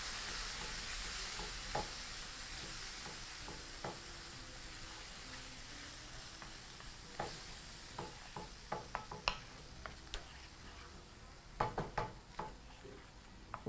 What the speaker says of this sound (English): And now proceed to turn off your heat completely and mix through.